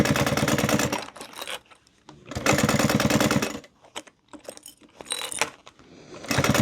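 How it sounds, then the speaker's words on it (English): Sewing machine running in bursts while top-stitching the sides of a fabric wristlet, a rapid mechanical rattle that starts and stops with short quiet gaps and small handling clicks between. "You just need to sew around the two sides with the top stitch"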